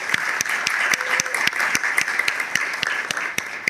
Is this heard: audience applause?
yes